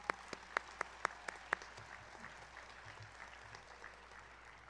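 Graduation audience at Tulare Adult School giving student speakers another round of applause: a few sharp near claps ring out, then soft, distant clapping spreads through the room at low level.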